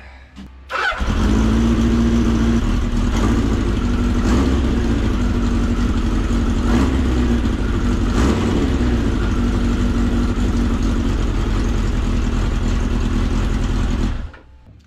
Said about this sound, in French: En tout cas, elle tourne sur 4 cylindres, ça c'est sûr.